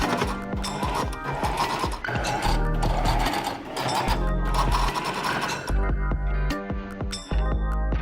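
A sewing machine stitches a cuff onto a ruffled vintage dress, running in quick rhythmic bursts with short pauses between runs, close and clear with no voices.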